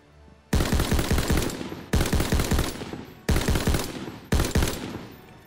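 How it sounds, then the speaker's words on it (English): A light machine gun fires four long automatic bursts in a World War II shooter game, rapid loud close shots with echoing tails between each burst and no voices. "is this a new light machine gun?"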